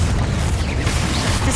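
Confringo fire spell blasting in the Hogwarts Legacy video game, a loud sustained booming rumble with dense low-end roar lasting the whole moment, steady and close with no talk over it.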